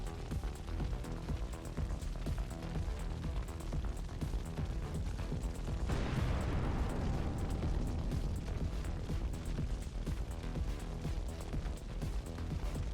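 Heavy explosions from strikes on a Russian military column roll on as a dense, continuous rumble, with a stronger blast swelling in the middle and booming on without any voices.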